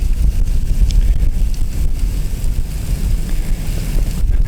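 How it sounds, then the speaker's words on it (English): Strong wind blows outdoors at a lakeside recreation area, buffeting the microphone with steady low rumbling gusts, loud and continuous, with no talk. "Man, this wind, it's killing me."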